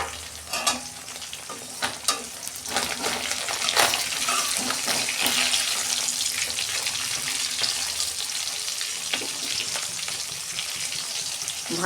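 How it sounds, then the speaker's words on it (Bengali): Tengra fish fry in hot oil in a pan. A dense, crackling sizzle carries sharp pops and spatters throughout, and a few louder bursts come early on. "তেল গরম হয়ে গেছে, মাছগুলো আমি ভেজে নিচ্ছি।"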